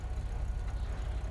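Low, steady rumble of a car engine idling in a video game, a continuous near drone with no talk over it.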